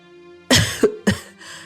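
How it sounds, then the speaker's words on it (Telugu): A woman coughs twice in close succession, loud and near, followed by a softer breathy trailing sound. "ఖరీదైన మందులు వాడుతున్నా ఆవిడ దగ్గు తగ్గటం లేదు"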